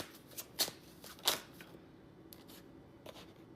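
A deck of tarot cards is shuffled by hand, with a few quick riffling bursts and soft slaps spaced through a short, quiet moment close to the listener.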